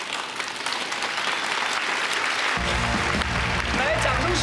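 A studio audience at a TV talk show applauds the chef, a thick, even roar of clapping that continues as a voice and musical tones rise underneath in the second half.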